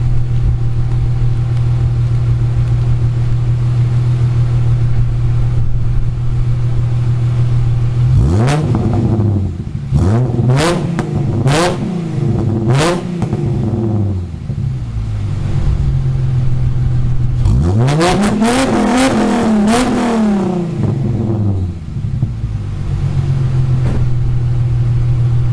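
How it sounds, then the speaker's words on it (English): A Holden Commodore with an L67 engine, fitted with an adjustable fuel regulator, idles with a steady rumble, then is revved up in a few sharp blips, settles, and rises again in a longer cluster of revs before returning to idle. "I'll give a couple of revs anyway and see what you reckon."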